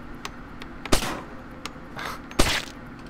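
Two sharp pistol shots ring out a second and a half apart in the stealth game Splinter Cell, each a loud crack with a short tail, over a low, quiet ambient background.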